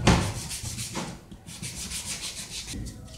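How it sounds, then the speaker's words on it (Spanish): Sandpaper is rubbed by hand along the grooves of a wooden picture frame, giving a close, rhythmic series of scratchy back-and-forth strokes with brief pauses between passes. "En estas ranuras también debemos de lijar,"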